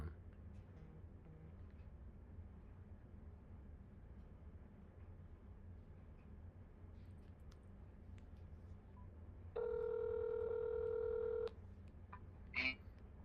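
A telephone tone sounds after a failed call attempt: a steady, clean electronic tone lasting about two seconds. It stands out loudly against a quiet, low background hum.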